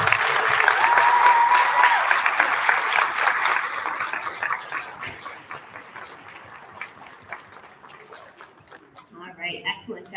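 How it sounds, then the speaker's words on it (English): At an elementary school student recognition ceremony, the crowd applauds students receiving attendance awards. The applause starts loud and dense, thins into scattered claps as it fades, and brief voices come in near the end. "would you stand so that we can acknowledge you and give you a round of applause?"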